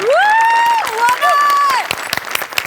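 Audience at a live Marathi comedy stage show clapping and cheering, a loud sustained whoop riding over the crowd before it settles into steady, dense applause.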